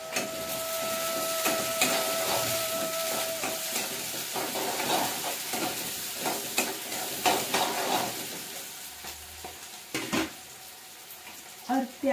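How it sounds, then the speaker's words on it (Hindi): Onion and garlic frying in hot oil in a home kitchen, a steady close sizzle with stirring scrapes and clatter running throughout, a few sharper knocks near the end. "तेल हो गया गर्म, अब डालेंगे हम इसमें प्याज"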